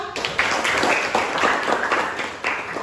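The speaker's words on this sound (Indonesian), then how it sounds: "tepuk tangan untuk Tia" A classroom of students claps for a classmate, a brief round of fairly loud, somewhat uneven hand claps from a small group in a room.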